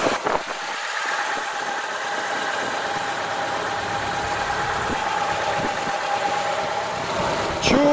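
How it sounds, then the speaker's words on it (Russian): Lada Niva VAZ engine idling steadily with a light valve tick, close and continuous, a faint rhythmic ticking over the low running hum for the whole stretch. "Чуть-чуть легкий звук клапанов, но сейчас нагреется двигатель."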